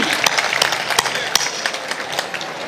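An audience claps at an outdoor festival stage, a dense crackling patter of many hands sustained across the moment, with sharper individual claps standing out and a voice speaking over it.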